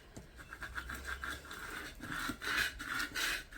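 Transfer tape being rubbed flat onto a balloon, a soft continuous scraping and rasping with a steady rhythm of strokes, close and moderately quiet, with no speech.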